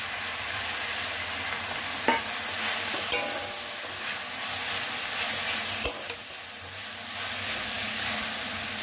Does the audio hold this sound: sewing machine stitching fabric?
no